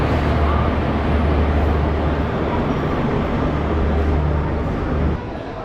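A train rumbles at Vijayawada Junction railway station aboard the 07153 Narsapur to SMVT Bengaluru service, a loud continuous low roar of wheels and carriage noise that drops off sharply near the end.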